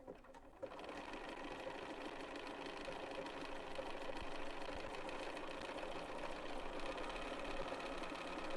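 A BERNINA sewing machine stitches a hemstitch, its steady mechanical whirr starting after a brief pause and running evenly at a constant medium speed, close and alone with no talk.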